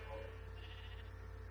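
Sheep bleat quietly in the survival video game Survival Island, a short, faint, wavering call over a low, steady background hum.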